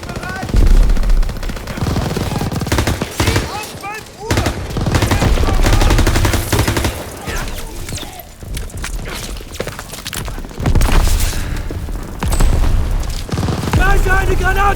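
Grenade blasts and sustained gunfire from Call of Duty: WWII story mode, heavy booms and rapid machine-gun bursts filling the soundtrack, with German-language combat voices shouting over the chaos.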